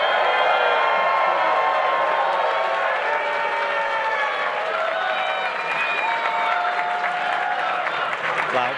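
A large Libertarian convention crowd applauds and cheers loudly and steadily, dense clapping mixed with whoops and shouting voices throughout, no pause in the roar.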